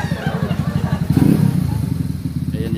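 A Yamaha Mio scooter engine, 2006 or 2011 model, runs with a loud, close, rapid putter that swells into a brief rev before settling back to a steady idle.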